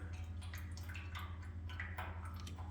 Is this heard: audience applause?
no